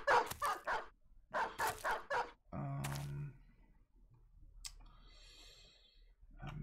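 Dogs in the Battle Brothers Blazing Deserts game let out a quick burst of barks followed by a second burst, then a short growl and faint clicks, loud against an otherwise quiet background.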